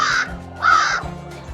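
Crows at a dog feeder puzzle toy filled with kibbled cat food, giving two loud, close harsh caws with a fainter third call after.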